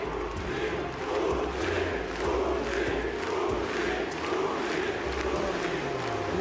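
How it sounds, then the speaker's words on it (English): A large crowd at the League of Legends 2018 MSI tournament in France, cheering and shouting in a sustained roar with surging swells, loud and dense. "Listen to France as they are cheering for Uzi."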